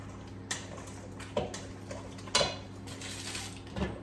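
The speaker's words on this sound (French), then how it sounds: "Et là, on va mélanger les pommes de terre." Boiled potatoes mixed in a bowl for a Bourbonnais pâté make a few sharp, spaced clinks and knocks of a utensil against the dish over a quiet kitchen hum.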